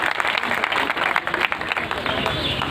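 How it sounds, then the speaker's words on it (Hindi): An audience at a corporate meeting in a hall gives a warm round of applause, steady and moderately loud clapping throughout, with some voices murmuring underneath. "मैं मंचासीनों से आग्रह करूंगा इनके सम्मान में दिल की गहराइयों से जोरदार तालियां हो जाए"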